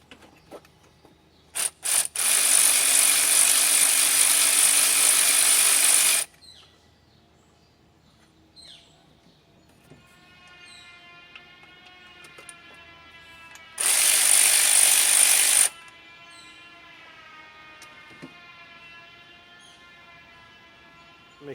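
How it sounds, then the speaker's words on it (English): A ratchet wrench loosens cylinder head bolts on a 2002 Nissan Sentra 1.8L engine in two loud, sustained bursts of rapid clicking, with quieter metallic handling sounds between them. "Loosening the number 14, and then do the ones along the side here."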